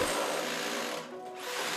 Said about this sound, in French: Nous perçons les trous en biais, de sorte que nous pouvons déjà commencer à faire le virage en passant au travers du mur.